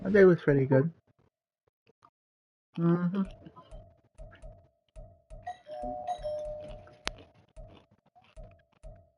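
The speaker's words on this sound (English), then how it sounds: "That's my doorbell." A home doorbell chimes repeatedly in a series of short electronic tones mixed with rhythmic tapping, starting after a person speaks and continuing beneath their voice.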